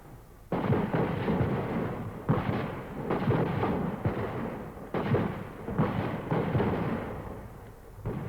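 Rapid, dense bursts of rifle gunfire in battle, salvo after salvo of overlapping shots in irregular clusters, loud and sharp with brief dips between volleys.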